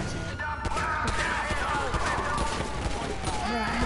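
Rapid gunfire rattles through GTA 5 gameplay, a dense, continuous burst of shots close and loud, with a voice speaking over it.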